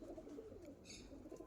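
Pakistani KTM Teddy pigeons in a loft, giving soft low cooing that rises briefly over a steady murmur of background noise, close and fairly quiet with no talking.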